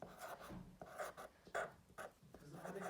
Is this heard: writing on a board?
yes